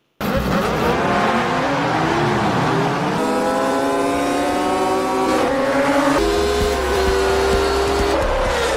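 Racing motorcycles roar off at the start of a national championship race in a film, a loud continuous engine whine with rising and shifting pitches as the bikes accelerate.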